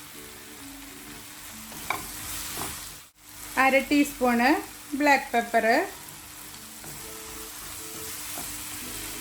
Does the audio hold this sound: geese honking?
no